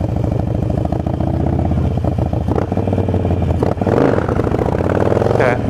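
A motorcycle revving hard in first gear to lift into a wheelie, loud and close, with a rising engine buzz, a brief dip, then another surge of throttle.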